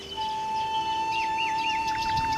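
Baya weaver birds chirp around their nests built at the tips of branches, giving a few short, fairly faint tweets in quick succession over a steady, faint hum.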